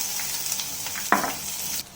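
Oil sizzling in a heated pan, readied for onions in a Karnataka-style egg curry, with a steady hiss, a brief stirring clatter midway and the sound dropping off near the end.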